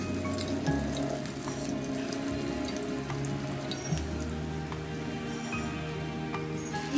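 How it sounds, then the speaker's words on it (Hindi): Dahi vada batter frying in hot oil makes a steady, dense sizzle and fine crackle that keeps going without a break, close and fairly soft, with no talking. "अब हम वापस दूसरा सेट वापस से वैसे ही हम उसे मिक्स फ्राई करने के लिए डाल देंगे"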